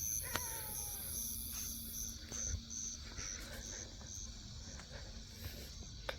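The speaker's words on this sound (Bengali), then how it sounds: "আর ঝিঝি পোকায় দেখেন কেমন হয়েছে" Crickets chirp at night in a rural village, a steady high-pitched trill running throughout alongside faint scattered clicks and a low background hum, with no voices.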